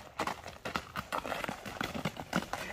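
A fast horse's hooves clip-clop in a quick, steady rhythm of sharp, close strikes, with a faint voice briefly in the background.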